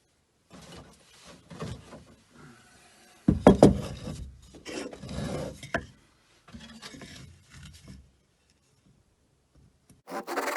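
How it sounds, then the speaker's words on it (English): Irregular rasping strokes of a handsaw cutting through wood, in uneven bursts with short pauses, close by. "now I'm going to just cut with a handsaw"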